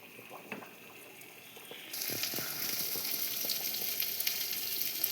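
Potato pieces browning in spices in a hot pan sizzle steadily. The first two seconds are a quieter crackle, then the frying jumps louder and brighter as the potatoes are stirred, and it holds there, close and continuous, with no voices.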